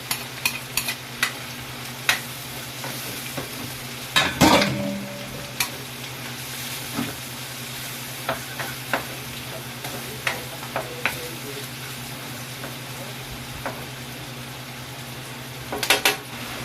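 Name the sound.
sautéing onion and garlic in a pan for adobo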